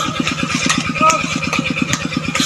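An engine-driven water pump drains water out of a flooded rice field, its motor chugging in a fast, even, close pulse throughout with faint voices underneath.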